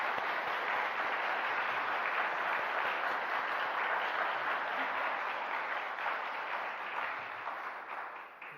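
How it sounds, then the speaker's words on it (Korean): A church congregation applauds the Gloria choir after a hymn, a steady, dense wash of clapping filling the sanctuary that holds evenly before thinning slightly at the end. "우리 힘찬 찬송을 불러신 우리 글로리아 성가대에게 격려의 박수를 한번 보내드리도록 하겠습니다."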